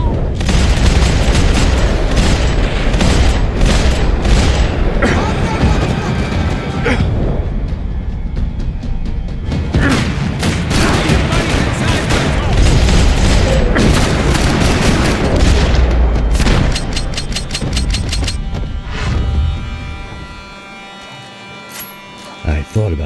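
Dense gunfire and heavy booming explosions from a shootout in the video game Max Payne 3 fill the whole stretch, loud and near, with rapid overlapping bursts that thin out toward the end. Voices sound faintly amid the action.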